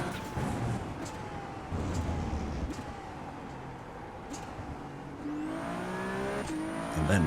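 Ferrari 296 race car engine in the iRacing sim at the Red Bull Ring, held at low revs in a higher gear with a steady drone, then rising into a climbing rev near the end, with faint tire noise.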